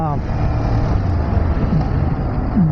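Kawasaki Z400 motorcycle engine on the move, a steady droning hum with wind rush and a rising rev near the end, heard up close beneath a rider talking.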